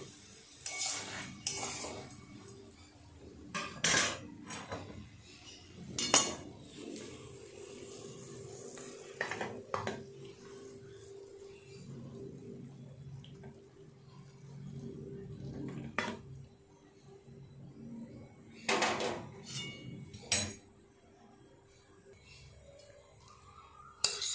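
Cooked prawn and taro-stolon curry is scraped and tipped from a pot into another dish, with scattered metallic clinks and scrapes of a spoon against the pot, quiet and intermittent, plus faint talk in the background.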